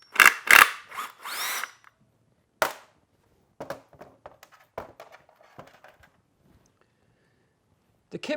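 Pneumatic impact gun spinning out oil cooler cover bolts beneath a 6.0 diesel engine, several loud close bursts of rattling at the start and a short burst later, then softer scattered clinks and taps of the bolts and tools.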